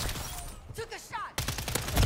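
WSP-9 submachine gun fire in the video game Modern Warfare 3: a short voice-like sound comes first, then a rapid, loud burst of close gunshots rattles through the final second.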